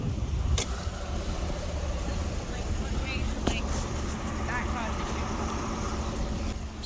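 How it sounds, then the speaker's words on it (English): Police car engines idle nearby in a steady low hum, with a few sharp clicks and people talking over the running motors. "we have computers in the cars, so some of the cars are running"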